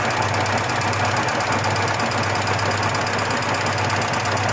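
A race car engine idles steadily and loudly with a constant knocking mechanical rumble, running alone throughout while its oil pressure is being checked.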